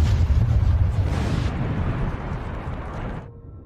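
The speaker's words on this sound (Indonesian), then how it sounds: "Seorang pria Hamzat lalu melemparkan granat ke dalam gedung dan menyebabkan ledakan yang sangat dahsyat." Huge film explosion from a grenade thrown into a building, a loud deep roaring blast that rumbles and slowly decays over several seconds before cutting off.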